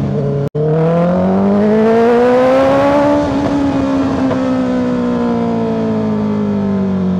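A Honda CBR650R inline-four motorcycle engine revs up smoothly and then eases off, a loud, close, sustained whine with no voices.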